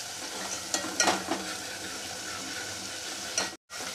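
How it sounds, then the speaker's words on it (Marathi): Masala spice paste roasting in hot oil for a spicy Puneri misal, giving a steady close sizzle with a few stirring scrapes near the start and a brief dropout near the end. "आता तेल सुटेपर्यंत भाजायचा आहे हा मसाला आपल्याला."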